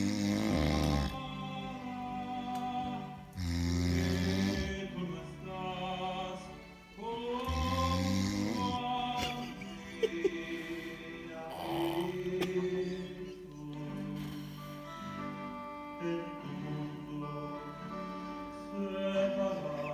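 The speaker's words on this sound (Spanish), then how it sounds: "le aflojo la nariz y comienza a respirar de nuevo, a roncar" A person snores loudly and steadily, with long rasping, rumbling breaths repeating in a slow, uneven rhythm, close by with no talking over them.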